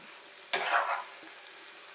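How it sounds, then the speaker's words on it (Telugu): Carrot and beetroot curry fries in a pan, with a short close burst of sizzling as it is stirred, then a faint crackle and quiet hiss. "ఇప్పుడు ఫ్రై అవ్వనివ్వాలి"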